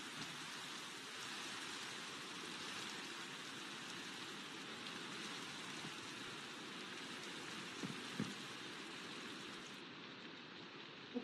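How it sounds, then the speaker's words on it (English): Steady rain pours down in the Minecraft video game, a dense, even hiss that continues unbroken for the whole stretch, with a couple of small knocks near the end and no talking. "Oh, come on, it's raining."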